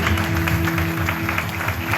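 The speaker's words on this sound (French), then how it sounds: "On peut les applaudir, Bordeaux." Audience at a French rum-cocktail school competition in Guadeloupe applauds the third-place Bordeaux team, a steady dense clapping wash with a faint crowd murmur and a low sustained tone underneath.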